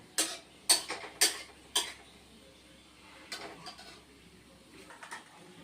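Potato, eggplant and beans for a Bengali spinach fry clatter into a pan: four sharp metallic hits in quick succession, then softer scattered knocks and rustles, fairly faint.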